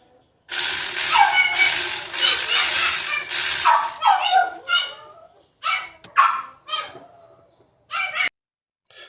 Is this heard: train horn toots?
no